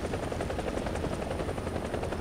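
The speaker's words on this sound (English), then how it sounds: "Beautiful looking chopper." A German helicopter in the video game War Thunder gives a steady, rapid rotor chop with a dense engine whine. The sound is continuous and even throughout, with no talk.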